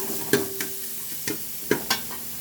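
Food frying in a pan is stirred with several scraping strokes over a steady, close, soft sizzle, with no talking.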